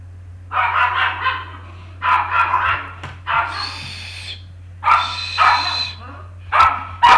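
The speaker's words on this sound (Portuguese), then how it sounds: "Só um minutinho aqui, que a cachorrada começou." Several dogs bark in repeated bursts close by during an online pedagogy lecture, a hum running steadily underneath.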